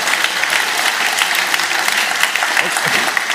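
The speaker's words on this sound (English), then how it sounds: "Let's give him a round of applause" An audience applauds at a lecture event, a close, lively burst of dense clapping with a few sharp individual claps standing out, going on steadily for a few seconds.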